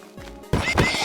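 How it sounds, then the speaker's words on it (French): A Minecraft horse neighs in a single loud, bright whinny that bursts in halfway through the short moment, preceded by quieter game ambience. "Il y a des chevaux là-bas."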